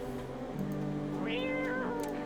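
A cat meows once in No, I'm Not a Human, a rising then falling cry that carries over a steady low hum of game ambience.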